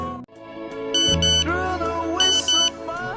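A cellphone sounds a text message alert indoors, a bright electronic tone sequence with a couple of sharp beeping bursts, loud and close, with no voice over it.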